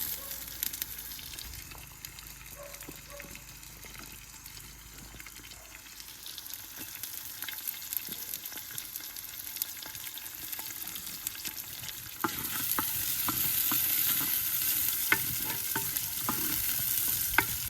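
Chopped onion and ginger frying and being stirred in a pan, with a steady soft sizzle, scraping stir sounds and crackles that grow louder and brighter toward the end.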